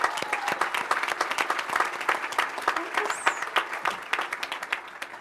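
A graduating class applauds at a 2010 commencement ceremony, a dense, steady roar of many hands clapping, sustained throughout, with a faint voice briefly heard.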